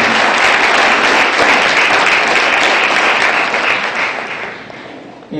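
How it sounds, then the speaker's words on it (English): A county fair crowd applauds steadily and loudly for about five seconds, a dense wash of clapping that fades slightly toward the end, with no talk over it. "One more round of applause for Wisconsin 68th Alice and Gabrielle Shebo"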